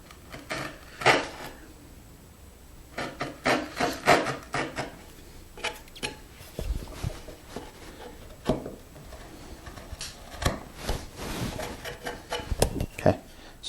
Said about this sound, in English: I'm going to clean this area up here as well. Using the wide chisel makes this job easier.